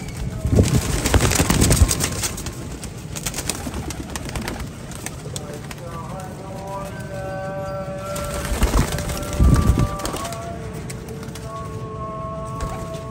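Teddy pigeons cooing in a loft, soft repeated coos with a few louder fluttery bursts, while someone talks over them.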